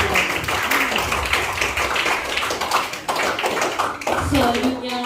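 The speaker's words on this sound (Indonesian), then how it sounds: "Mari kita berikan tepuk tangan yang meriah untuk Kepala Sekolah SMP Seminari Santo" Applause and hand clapping for the new principal at a handover ceremony at SMP Seminari St. Johanes, a dense, steady patter from a crowd lasting several seconds, with some voices mixed in.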